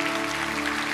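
A brief burst of dense crowd applause welcoming visitors at a Sunday church service, over a sustained organ-like tone.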